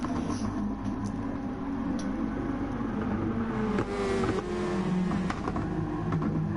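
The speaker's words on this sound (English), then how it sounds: "the beautiful sounds of these Group 2 cars" Several Group B racing car engines in Gran Turismo Sport roar and whine together at Fuji International Speedway, revving up and down as they pass through corners, loud and continuous.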